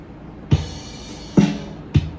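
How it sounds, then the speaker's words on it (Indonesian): Built-in drum beat from an Enya NEXG 2N nylon-string smart guitar, three punchy low kick-and-snare hits at a steady moderate tempo, played loud with a light background hum between hits. "Itu suara drumnya."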